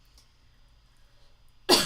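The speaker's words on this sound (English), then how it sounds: "Now I can't stop coughing." A quiet, near-silent stretch ends with one sudden, harsh cough close to the microphone.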